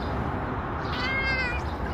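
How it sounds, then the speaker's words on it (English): A cat meows close by, a single drawn-out call in the middle of a steady, noisy indoor background. "Oh, what a funny cat."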